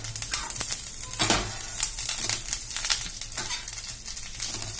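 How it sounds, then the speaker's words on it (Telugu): Steady sizzling of curry leaves frying in hot oil, with occasional scraping stirs from a spatula in the pan, close and fairly continuous. "ఇలాగా చక్కగా కరివేపాకుని వేయించుకోవాలి. కరివేపాకు వేగుతుంది కదా"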